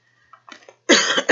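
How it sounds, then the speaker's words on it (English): A person coughing close to the microphone, a short burst of two harsh coughs after a few quieter breathy sounds. "I apologize if you hear me guys coughing or sneezing."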